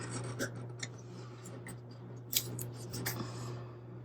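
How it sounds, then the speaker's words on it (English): An X-Acto knife slices across a planner page in short, quiet scratching strokes, with a few sharper scrapes and a steady low hum in the background and no talking. "take my X-Acto and kind of cut this at an angle"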